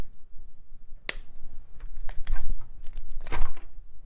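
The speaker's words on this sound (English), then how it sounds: "Let's snip this zip tie." Sharp snip of cutters through a plastic zip tie inside a Packard Bell desktop tower, a single crisp click followed by rustling and crinkling of cables being handled close up.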